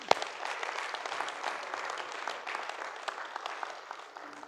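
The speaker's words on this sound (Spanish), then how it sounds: "Vamos a dar un aplauso." Church congregation breaks into applause, a soft but steady patter of many hands clapping in a room, with one sharp close clap at the start and the sound gradually thinning toward the end.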